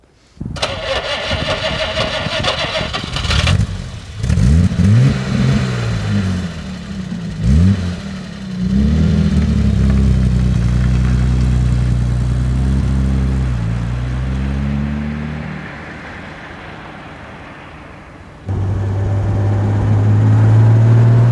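A 1967 Jaguar E-Type 4.2 Roadster starts up and drives, the engine cranking, catching and revving through rising and falling pitch sweeps, then settling into a steady drone before a brief drop and a louder return.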